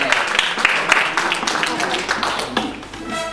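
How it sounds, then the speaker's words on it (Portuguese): Audience clapping for José, the cook, a scattered round of applause that mixes with voices and fades out near the end. "Uma palma, uma salva de palmas pro José"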